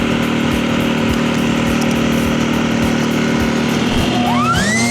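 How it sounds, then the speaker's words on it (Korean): An electric leaf blower powered by an EcoFlow smart generator runs loud and steady with a constant motor whine, clearing fallen leaves outdoors, and a rising tone near the end suggests a speed change. "전기 송풍기를 연결해서 사용해 볼 텐데"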